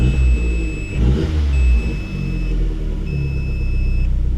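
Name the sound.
car engine revving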